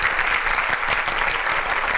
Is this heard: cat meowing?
no